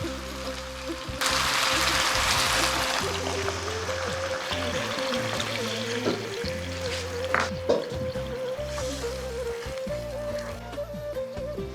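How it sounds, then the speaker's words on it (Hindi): Two cups of water poured into Gobi Manchurian gravy in a cooking pan, a steady near splashing pour that runs for most of the stretch over a low cooking hum. "उसमें मैं अभी डाल रहा हूँ 2 कप पानी"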